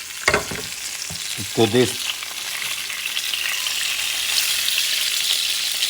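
Fat and oil sizzle and fry in a pot ahead of braising ribs for a barley and rib stew, a steady bright hiss that builds and holds, with a few brief voiced words and stirring clinks near the start.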